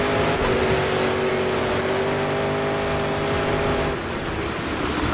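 A Monster Jam monster truck engine races in freezing temperatures, a loud continuous roar with a steady tone that dips slightly toward the end, no talking.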